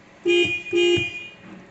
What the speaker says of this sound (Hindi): So now let's check the horn of this car.